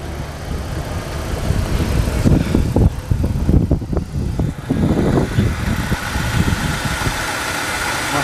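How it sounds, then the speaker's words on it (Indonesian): A 2005 BMW E90 320i with the N46 four-cylinder engine idles just after starting, a steady smooth mid-pitched hum with a few louder revs and vibrations in the middle, heard close with no talking. "Jadi kita akan dengarkan suara nyala mesinnya."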